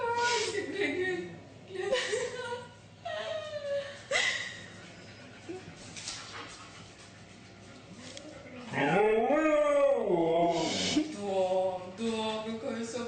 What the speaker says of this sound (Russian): Да, какая собака.